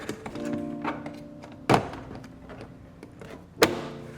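A 2nd-gen Toyota Tacoma door trim panel is pressed back into place, giving two sharp plastic thunks about two seconds apart, with light handling taps and rustles between them.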